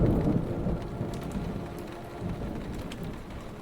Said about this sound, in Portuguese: tem uma chuva de fundo